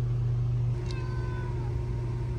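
A cat meows once, briefly and fairly faintly, over a loud steady hum and indoor background noise.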